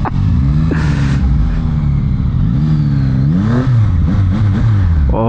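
A 2024 Yamaha MT-09 motorcycle engine revs at Sepang Circuit, loud and close, with a steady mid-pitched drone that rises and falls through several throttle blips, continuous throughout.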